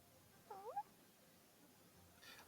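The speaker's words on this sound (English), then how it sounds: "I heard that cat noise." A single short, faint meow from Kirara, the cat character in Genshin Impact, rises briefly over quiet background game sound.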